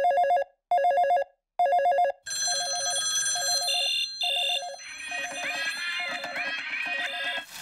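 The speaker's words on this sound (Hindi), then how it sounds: "रुको मैं ओगी को फोन करती हूँ।" Cartoon telephone rings in loud, regular bursts of bright electronic trills, starting with three separate rings and then continuing in rapid repeated pulses under a busy comic music and effects bed, with no talk.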